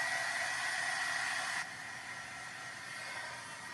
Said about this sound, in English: Let's just hit it really quick with the heat tool.